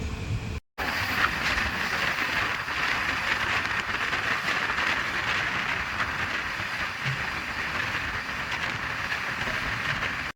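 Konkan Railway passenger train running at speed between Mangaluru and Madgaon, a continuous loud rumble and rattle of wheels on track heard from inside, after a brief dropout near the start.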